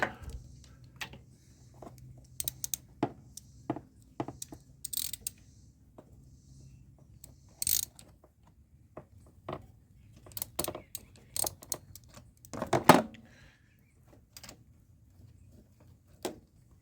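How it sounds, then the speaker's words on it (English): Spark plug being removed with a 5/8 inch plug socket on a GY6 139QMB 50cc scooter engine: scattered short ratcheting clicks and metallic ticks, close and fairly quiet, with gaps of near silence between them. "we will grab our trusty 5/8 inch plug socket, and we will take that plug out."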